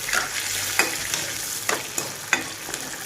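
Onion sautéing in a pan, reddening as it fries under a steady sizzle, with several distinct spatula scrapes and stirring knocks spaced about every half second.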